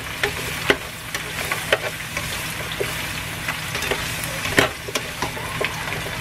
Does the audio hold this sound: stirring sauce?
yes